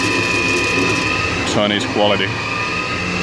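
CNC lathe making a cut with the spindle limited to 1500 RPM, giving a steady mechanical whir and hum with a brief higher squeal near the middle, under a man's short spoken remark.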